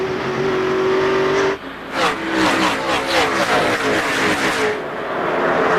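NASCAR race cars at the 2002 Checker Auto Parts 500 roar side by side around the track, a loud continuous engine drone with pulsing passes and revving swells, up close and without talk.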